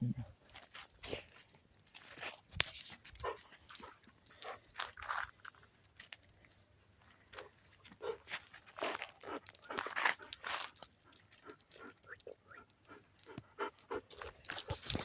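A dog brought in after getting a thorn stuck, panting in quick breathy bursts and letting out soft whimpers, close and fairly quiet, with a few faint jangles and footsteps around it.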